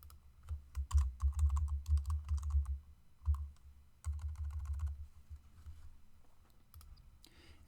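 Computer keyboard keys tapped in quick irregular bursts while naming a layer, close and clear, with a few pauses between runs of typing and no talking.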